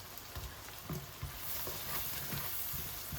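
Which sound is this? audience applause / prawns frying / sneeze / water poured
prawns frying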